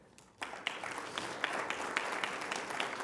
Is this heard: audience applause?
yes